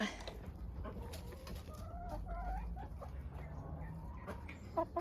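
Chickens cluck from a backyard coop near a makeshift door, short scattered calls rising over steady outdoor background noise, with a louder squawk near the end.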